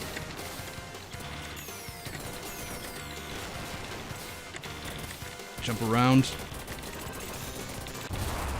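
Super Contra arcade gameplay fills the scene with rapid gunfire and crunchy blasts, capped by a loud sweeping explosion burst midway, under a voice.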